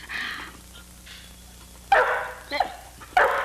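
A dog barks a few times in short, sharp bursts, with quieter yips and whimpering sounds in between, fairly close.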